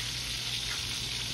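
Catfish fries in hot oil with a steady, dense hiss and crackle, close and continuous, with no voices.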